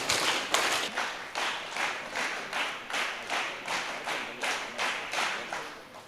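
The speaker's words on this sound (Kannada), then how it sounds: "ಸಂಪಿಗೆ ಚಪ್ಪಾಳೆ ಸ್ಟಾರ್ಟ್." Audience clapping in rhythmic unison at a community family-day closing ceremony of a de-addiction camp, a steady beat of about two claps per second sustained throughout, moderately loud and with no talk.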